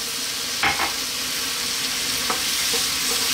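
Coconut milk sizzling as it is poured into a pan of cauliflower curry, a steady close frying hiss with a couple of brief stirring clatters and no talk.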